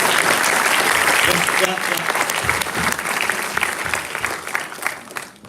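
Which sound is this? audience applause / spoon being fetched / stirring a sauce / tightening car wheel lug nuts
audience applause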